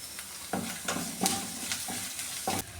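Curry leaves hit hot oil in a pan while an egg roast masala cooks, giving a steady close sizzle broken by several sharp stirring scrapes and crackles, with no voices.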